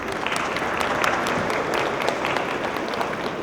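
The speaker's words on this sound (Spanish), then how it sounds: "Un aplauso, por favor." Steady, dense audience applause at a panel forum on anticorruption systems, many hands clapping evenly at moderate loudness with no break and no talking over it.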